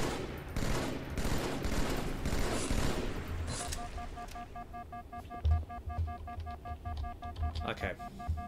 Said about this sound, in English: What an awful plasma rifle, plasma pistol shot.